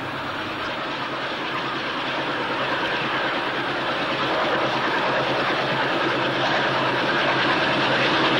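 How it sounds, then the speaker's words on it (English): Century 628 diesel locomotives hauling an iron ore train in the Pilbara region of Western Australia, a steady loud rumble and wheel clatter building slightly in volume, with no voices. "Hammersley Iron operated Century 628 locomotives."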